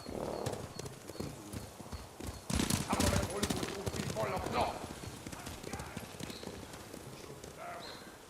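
Horses gallop in Ghost of Tsushima with rapid clip-clop hoofbeats and a neigh, mixed with game combat noise and overlapping voices, loud and busy in the middle before thinning out.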